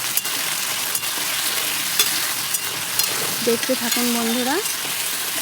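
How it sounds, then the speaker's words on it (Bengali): Potatoes fry in hot oil seasoned with salt and turmeric, a steady, even hiss of sizzling with occasional soft clicks of stirring, while a voice speaks briefly. "তেলটা গরম হয়ে গেছে, এবার আলুগুলো আমি ভেজে নিচ্ছি"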